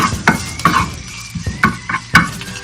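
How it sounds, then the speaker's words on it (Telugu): Finely chopped garlic frying in hot oil on high heat, with intermittent spoon-and-pan scrapes and knocks breaking over a light sizzle, close and fairly loud with no voices. "వెల్లుల్లి మంచిగా ఆయిల్లో వేగిన తర్వాత"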